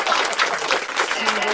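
Audience applause on a pop culture talk show, a dense burst of clapping filling the whole short moment with a busy, fairly loud texture, with voices mixed in.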